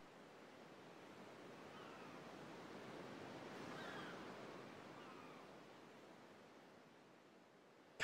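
A steady wash of ocean water and waves in Final Fantasy X HD Remaster, soft and even, swelling gently at the middle and easing off again, alone without talk.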